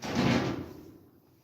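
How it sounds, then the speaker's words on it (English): A door swinging shut in a quiet house at night, one short soft thud with a brief rustle that fades quickly, close by and with no talking. "I'm going to close the door because everybody's sleeping but me"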